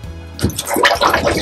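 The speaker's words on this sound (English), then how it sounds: "Open it and flush it." A campervan toilet on an Apollo Euro Tourer flushes up close, a quick rush and gurgle of water that starts abruptly and runs to the end of the short stretch.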